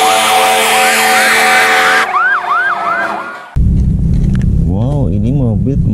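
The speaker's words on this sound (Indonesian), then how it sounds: "Ini mobil pemadam kebakaran atau fire truck yang bentuknya seperti ini, teman-teman." A fire truck siren blares up close, shifting from a steady wail to rapid yelping sweeps. It then switches abruptly to another warbling siren over a low rumble.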